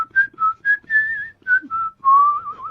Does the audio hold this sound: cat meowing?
no